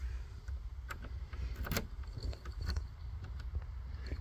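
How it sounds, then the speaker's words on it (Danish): A back door opened with keys jangling close by, bright metallic rattles and a few clunks bunched over a few seconds, with faint low rumble underneath and no talking. "åbner døren her."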